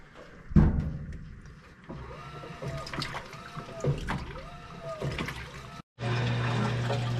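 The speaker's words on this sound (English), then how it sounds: "we're currently rinsing. All right, it's rinse cycle" A washing machine rinses a synthetic sleeping bag, with sloshing water, swishing drum movement and motor whirs, a brief gap near the end, then a steady mechanical hum, all close and moderate.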